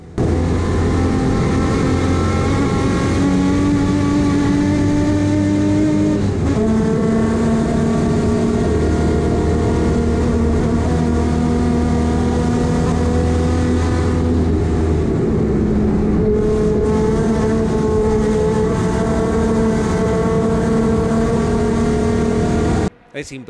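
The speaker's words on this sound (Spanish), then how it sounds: "Estamos a bordo del auto de Adrián Tonietti." Onboard a TC Regional GTA race car driven by Adrián Tonietti, the engine drones loud and close, its pitch climbing and dropping through gear changes, while a commentator talks over it throughout.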